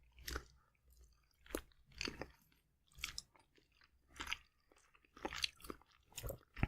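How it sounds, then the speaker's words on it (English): Someone chews peppery turnip cake with sausage up close, in quiet, rhythmic crunchy bites separated by brief pauses, with no talking over it. "It's just a sound of chewing now."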